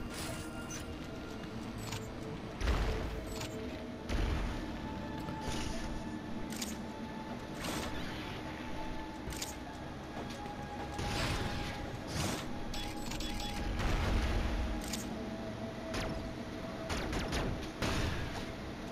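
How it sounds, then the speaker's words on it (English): Rockets fire and blast enemies in Metroid Samus Returns, a string of sharp repeated bursts and thuds with mechanical clicks over a steady game backdrop, loud and close throughout. "Oh, you can destroy them with rockets."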